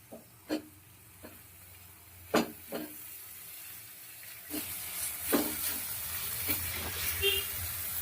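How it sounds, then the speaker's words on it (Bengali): Onion, ginger, garlic and green chili spice paste frying in a pan, a soft steady sizzle broken by several sharp stirring scrapes and clatters, growing louder and hissier in the second half, with a voice talking faintly at moments. "কাঁচা লঙ্কা মশলাটাকে ভালো করে ভেজে নিতে হবে খেয়াল রাখতে হবে এতে পোড়া না লেগে যায়"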